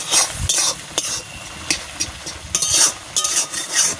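Cooked-down leafy greens (shak) frying in a wok, with a constant sizzle broken by irregular scraping and clanking strokes of a spatula as they are stirred, close and fairly loud.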